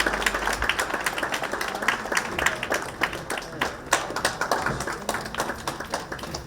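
A crowd at a government building inauguration ceremony in New Delhi applauds steadily throughout, dense clapping that keeps a fairly even level from start to finish.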